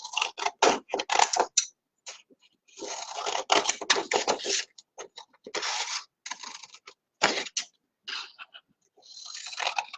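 Sewing scissors snip through paper in quick, close, crisp cuts, some in rapid clusters and some in single snaps, with short pauses between bursts.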